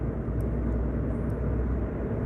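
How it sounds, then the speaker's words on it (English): Airplane flying overhead under a wild cloudy sky, a steady broad engine drone that stays constant and fairly loud throughout, with faint ticking sounds above it and no talking. "That's an actual airplane right there."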